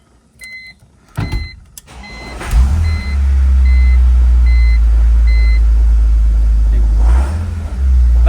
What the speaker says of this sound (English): this has got a pretty bad knocking sound from the transmission area